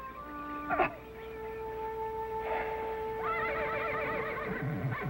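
A horse whinnies with a shrill, quavering neigh, then a longer wavering whinny follows, clear and fairly close, with no talking.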